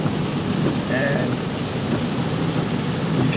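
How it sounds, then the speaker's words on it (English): Rain falling steadily during flooding by the Pea River in Elba, a dense, constant patter with a low rumble that may be thunder. "you can tell it's raining again. I mean, the rain is still coming down"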